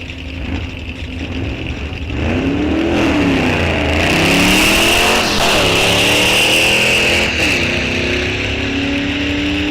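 A 1962 Studebaker drag racing down the strip at Rock Falls Raceway, its engine revving loud and rising in pitch as it accelerates away, sustained roar with shifting tones and no talk.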